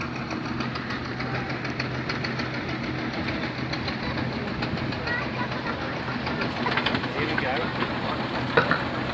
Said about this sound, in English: It's a single cylinder diesel Orestein and Koppel.